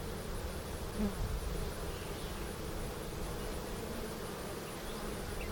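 A honey bee colony that recently swarmed, buzzing inside a hive fitted with double screen boards, a dense steady drone of many bees close by with no pauses.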